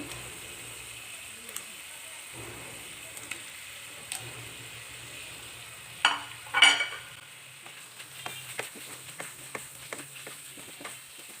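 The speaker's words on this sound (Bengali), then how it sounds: "এখন এখানে আমি চিংড়ি মাছগুলো অ্যাড করব" Prawns dropped into oil-glossed, fried spice paste for a prawn malai curry, giving a sudden loud burst of sizzling with stirring clatter, then a low crackle with scattered utensil clicks.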